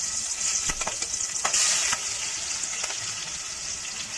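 Onions sizzle and fry in a pan for a country chicken curry, a steady close hiss with a few stirring clicks and scrapes, no voices.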